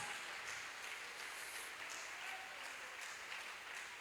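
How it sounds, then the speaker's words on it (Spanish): Congregation applauding during a Spanish-language evangelical church service, a steady wash of clapping sustained throughout, moderately distant and fairly quiet. "Ese aplauso al Señor Jesús."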